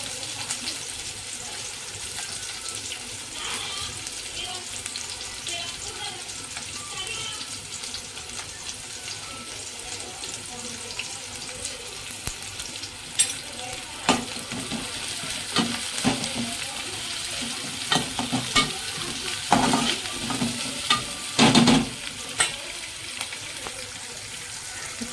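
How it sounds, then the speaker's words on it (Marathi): Sliced onions sautéing in a pan for prawn curry, a soft continuous sizzle with intermittent stirring scrapes and clatter that grow busier toward the end. "तर कांदा जो आहे तो परतून झालेला आहे"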